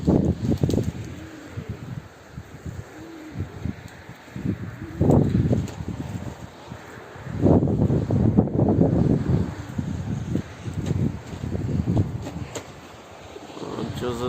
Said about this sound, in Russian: Ветер хороший.